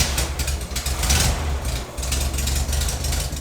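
Classic air-cooled VW Beetle engine starting and settling into a rough, loud idle, a chattering mechanical clatter with uneven pulses close to the microphone.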